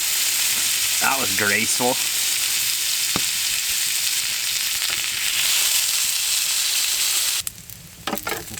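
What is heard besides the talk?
meat frying in oil in a pan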